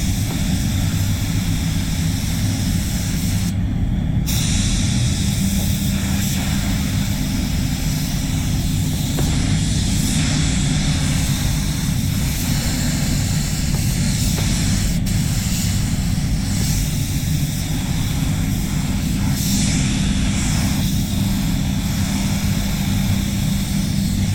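SATA CC spray gun laying candy paint onto a car panel at just under 2 bar, a loud continuous airy hiss and roar that holds steady throughout with no talk.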